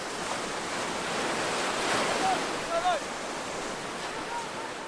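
Surf breaks on the shore of the Caspian Sea, a steady broad wash of waves roaring continuously with wind buffeting the microphone.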